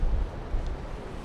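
Wind buffets the microphone outdoors beside a historic two-story general store on a former dairy farm, a loud low rumble with gusty swells and no talking.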